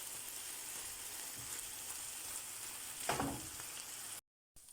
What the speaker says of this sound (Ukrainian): Жарю я на великому вогні.